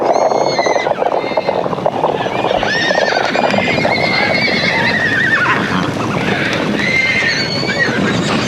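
At a Mongolian horse harnessing competition, horses whinny and neigh loudly over a continuous rumble of hooves and crowd noise, several calls overlapping throughout.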